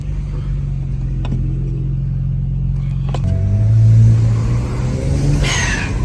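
A BMW 335i with an upgraded turbo idles with a deep, loud rumble, then revs up into a heavier, rising roar before settling back, while a voice speaks briefly in the background.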